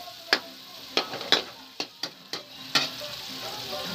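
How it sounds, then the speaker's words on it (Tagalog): Garlic sautéed in a pan gives a faint background sizzle broken by about eight sharp, separate clacks and scrapes of a utensil on the pan, close and evenly spaced, with no talking. "Bawang lang ang pinanggisa natin, ha?"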